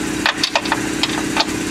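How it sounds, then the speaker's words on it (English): Strut mount nuts on a 2012 Ford Escape being snugged with a 3/8 ratchet, giving a few short clicking bursts over a steady background hum, up close. "take a 3/8 ratchet and just make sure that these are snug"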